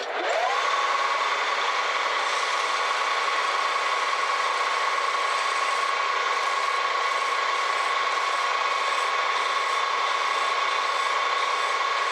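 A metal file is held against a workpiece edge spinning at 1600 RPM to knock off the burr. It makes a steady, even machine whine with a faint rhythmic grinding texture, continuous and close, with no speech.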